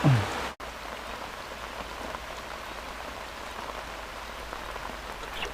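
Steady rain pattering on surfaces beside the Phong River during a fishing outing, a dense continuous hiss that stays even throughout after a brief louder knock at the start, with no voices.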